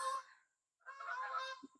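Geese honking loudly as they fly past outdoors, a burst of overlapping honks, a short pause, then a longer dense stretch of calls ending in two brief low notes.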